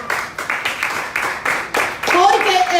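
Church congregation applauding during a Spanish-language sermon on the Torah portion Terumah, rhythmic clapping bursts repeating across the room, with a preacher's voice rising over the claps at the end.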